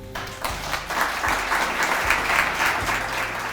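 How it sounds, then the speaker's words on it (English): Applause from an audience at an award ceremony for the 2024 Informed Decision Maker of the Year, steady clapping from many hands, full and close, with a low rhythmic thump beneath it. "We can hold the applause"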